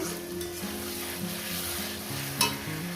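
Spices for a Bengali fish curry sizzle and crackle as they are stir-fried in a pan, a steady hiss with one sharper scrape near the end, over quiet background music.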